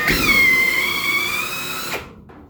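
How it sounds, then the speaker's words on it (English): A high-pitched spot weld drill whines steadily for about two seconds cutting through sheet metal on a 1973-1979 Ford crew cab roof, close and loud, then winds down abruptly and stops. "when you squeeze the trigger, it'll start spinning, but it'll also pull in the clamp"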